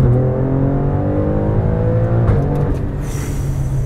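The Ferrari-derived V6 of a 2019 Alfa Romeo Stelvio Quadrifoglio revs hard in a loud, sustained, gritty roar close by, rising steadily before easing off with a brief hiss near the end, no speech.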